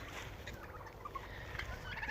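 A flock of farm-raised turkeys gobbles and chatters while grazing outdoors, with several overlapping calls at moderate distance over a steady background.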